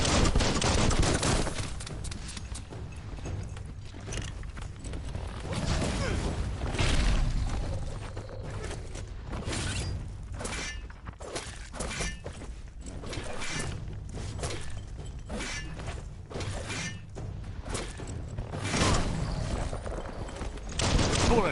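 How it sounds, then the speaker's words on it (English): Dense video game gunfire, rapid volleys of shots and bursts crackling almost without pause, loud and close, with impacts and breaking sounds mixed in and little speech. "Bullets everywhere."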